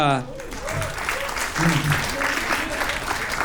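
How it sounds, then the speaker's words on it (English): A studio audience on a dating show gives brief, light applause, scattered claps coming through beneath a speaking voice. "it's one of the lightest claps ever"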